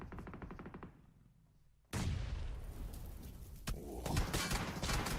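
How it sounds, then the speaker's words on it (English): Grenades blowing up in PUBG Mobile during a competitive finals match: a quiet stretch of rapid gunfire, then a sudden loud explosion followed by a sustained roar of further blasts and shots, dense and close. "Nade's blowing up all around."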